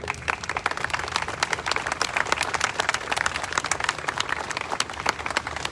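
A crowd at an outdoor protest and press conference in Tucson claps vigorously and continuously, a dense rapid patter of many hands that stays loud and even throughout.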